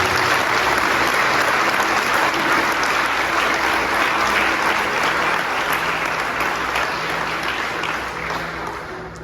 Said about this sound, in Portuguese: Então aplauda bem forte, Senhor.